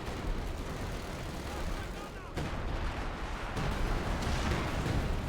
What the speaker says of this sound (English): That is sector artillery is coming in